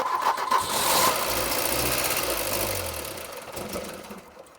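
An 80s classic barn-find car, parked for twenty years, runs with a loud, uneven engine note that wavers and sags before fading toward the end.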